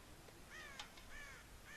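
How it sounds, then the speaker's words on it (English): Crows caw faintly in the distance in a scattered few calls over a soft hiss of ambient noise, set in the western video game Red Dead Redemption. "God damn crows!"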